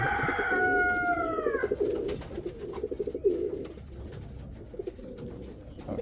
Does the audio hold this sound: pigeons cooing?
yes